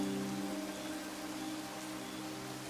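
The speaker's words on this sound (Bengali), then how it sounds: "বছরের প্রথম বৃষ্টি মুন্সিগঞ্জে।" Steady rain falls in Munshiganj, the first rain of the year, making a continuous soft hiss of drops on surfaces that stays even throughout, with no talking over it.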